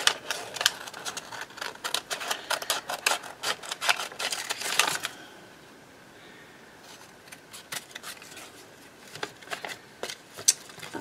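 Scissors snipping around a ribbon through paper in a junk journal tag book, a fast run of crisp cutting clicks, then a brief pause and a few more scattered snips, close and without talk.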